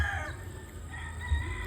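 Game farm rooster crowing with clear tonal bands, a single call carrying over steady background noise amid other fowl.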